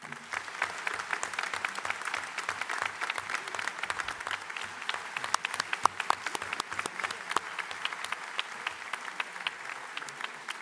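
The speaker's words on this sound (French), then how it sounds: "Je les invite à me rejoindre à présent sur l'estrade et on peut les applaudir." Audience applause at a live association conference in La Rochelle, steady dense clapping throughout, moderately distant and fairly quiet, with no talk over it.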